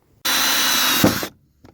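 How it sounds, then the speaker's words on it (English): A power drill bores a hole into a Buick's body panel to mount a side view camera, one steady close whine lasting about a second, then a short bump and stop. "So we'll measure that and drill the hole and stick the other camera in,"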